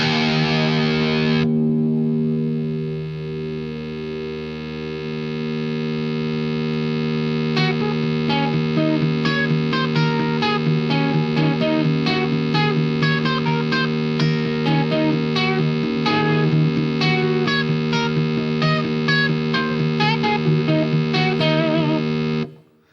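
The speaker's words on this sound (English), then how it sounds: "It's kind of almost like a weird synth note that swells in." A sustained distorted guitar note through a Boss GT-8 effects unit swells in slowly like a synth pad, holding steady with bright overtones and rapid shimmering repeats layered on top.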